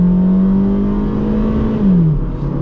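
A 2001 Honda Civic LX engine revs hard under acceleration, heard close from inside the car as a steady, strong drone whose pitch holds and then dips sharply near the end, like a gear change.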